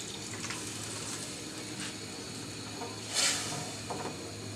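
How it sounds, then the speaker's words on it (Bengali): Water is poured into a pot of Bombay duck (lotiya) fish curry with okra, cooked village style: a steady hissing pour that swells into a brief louder splash near the end. "অল্প করে পানি দিয়ে দিচ্ছি যতটুকু আমার জুলের প্রয়োজন হবে"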